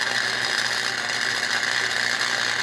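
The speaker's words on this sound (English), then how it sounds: "Now let's pull this weld up." Welding a seam on a 20 foot trailer gives a steady, dense crackling buzz that runs unbroken and close for the whole stretch, with no voices.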